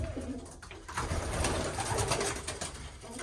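Racing pigeons, breeding cocks, coo steadily in a loft, with several overlapping low calls repeating throughout under a constant rustling background and no talk.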